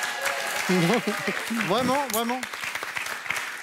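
A studio audience at the French dating game show Les Z'amours applauds briefly, a soft patter of clapping under the host's voice.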